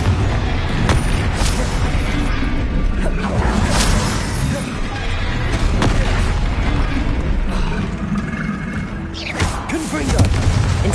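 Confringo spell explosions in the video game Hogwarts Legacy: a dense, continuous barrage of booming blasts and crashing impacts, loud and layered with game effects throughout.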